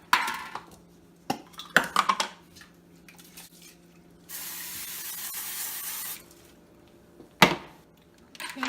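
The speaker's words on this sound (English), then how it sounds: "we gotta spray it with a little bit of butter" Butter cooking spray bursts from a can onto an upside-down pie crust pan while making a cheesecake, with several short hisses followed by a longer steady spray of about two seconds, close and moderately loud among light clinks of kitchenware.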